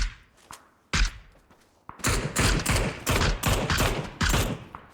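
Bursts of rapid video game gunfire crackle loudly, at first in a few separate volleys, then in a dense run of repeated shots that continues to the end.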